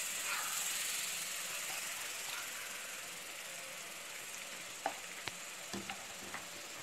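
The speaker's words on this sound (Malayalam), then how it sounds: "ബൂന്തി കൂടുതൽ സമയം ഫ്രൈ ചെയ്യാൻ പാടില്ല, ഒരു 2 മിനിറ്റ് ഫ്രൈ ചെയ്താൽ മതി" Boondi droplets fry in hot oil, giving a steady, fairly quiet sizzling hiss with a few soft pops and crackles toward the end, heard alone with no talking.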